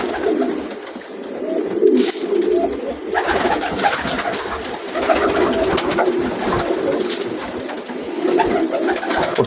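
Pigeons at a racing pigeon club in Baku, several birds cooing continuously in low, throaty, overlapping calls, close and fairly loud, with no talk.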